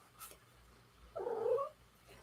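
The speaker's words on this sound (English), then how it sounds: "Here comes the cat." A cat gives a single drawn-out, wavering call, moderately loud and fairly close, in an otherwise quiet, dim indoor space with a faint low background hum.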